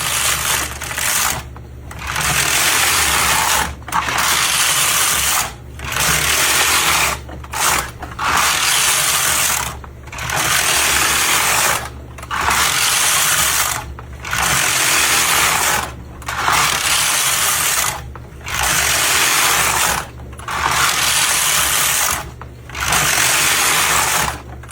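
A Hamanaka needle knitter knitting machine clatters with a ratcheting, geared rattle as the carriage sweeps back and forth across the needles in regular passes of about two seconds, each followed by a brief gap.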